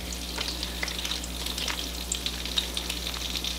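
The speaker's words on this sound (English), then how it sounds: "So now I'm just going to put a couple of pats of butter in here." A couple of pats of butter sizzle in a hot pan, a steady close crackle with small spitting pops throughout and no talking.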